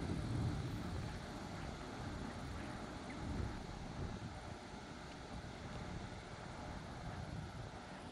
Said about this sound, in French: Le vent commence à se calmer tout doucement.